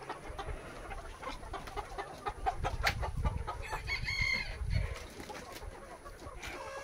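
Sonali chickens cluck in a farmyard, and a rooster lets out a crow partway through. Rustling and scratching sound nearby.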